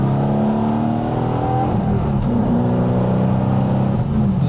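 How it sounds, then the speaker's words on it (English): A supercharged Mercedes C63 engine, converted to manual, drones steadily under load, its pitch sliding with the revs, with a thin supercharger whine riding on top, close and continuous. "You can just hear that whine from the supercharger."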